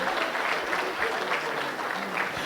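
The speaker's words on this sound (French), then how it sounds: "Je veux qu'on les applaudisse." Applause for the organising team at a Christmas carol awards ceremony, a dense, continuous crowd clapping that stays loud and even from start to finish.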